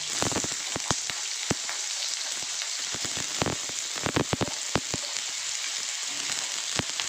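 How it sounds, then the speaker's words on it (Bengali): Steady hissing sizzle of potatoes frying in hot oil with a little salt, with scattered sharp pops and crackles throughout, close and continuous. "এখন আমি আলুগুলোকে ভেজে নেব।"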